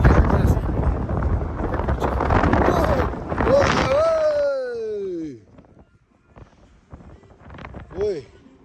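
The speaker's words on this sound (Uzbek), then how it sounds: "Odamni ham qimillataveradigan darajada shamol bor." Strong gusty wind buffets the microphone on a high suspension bridge at Zomin, a loud continuous roar that drops away midway, with voices exclaiming over it.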